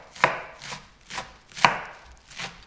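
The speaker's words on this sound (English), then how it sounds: "and chop it really thin." A knife chops fresh parsley leaves on a board in five distinct, evenly spaced strikes, crisp and close with quiet gaps between them.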